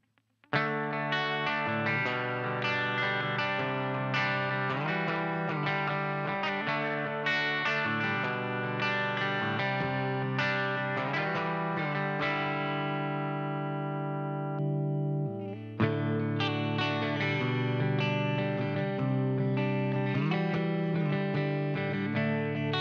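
Gibson Les Paul Tribute electric guitar played through effects with distortion, chorus and reverb: sustained chords and riffs ring loud and continuous, with a brief pause before the playing resumes, and no speech.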